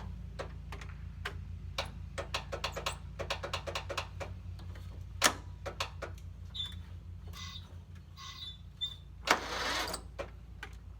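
A tractor engine on a weak battery tries to crank, giving a run of uneven ticking clicks over a steady low hum, with a few louder clunks and a brief burst of noise near the end.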